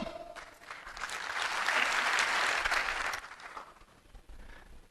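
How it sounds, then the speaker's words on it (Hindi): An audience claps together in one burst of applause at a motivational talk, swelling to a dense peak and then fading, with no speech over it. "जब भी मैं हेलो बोलूंगा आप एक बार ताली बजाएंगे"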